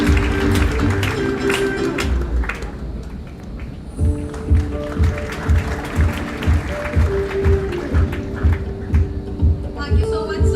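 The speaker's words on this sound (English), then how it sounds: "I would request everyone to kindly give them a huge round of applause." Hall audience at a tech hackathon event applauds for a university Pro Vice Chancellor, a loud, dense wash of clapping that carries on steadily, with a voice heard over it at first.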